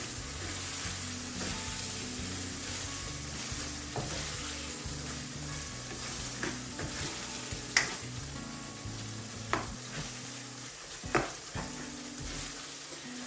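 Lamb and chicken mince sizzles while being stirred in a karahi, a steady quiet frying hiss punctuated by soft scraping and occasional sharper clinks of the utensil against the pan.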